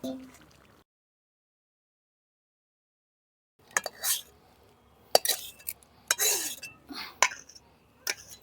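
Cooked chicken kosha is scooped from a wok into a metal bowl after a silent pause, with a run of close metallic clinks and scrapes and a few wet splats.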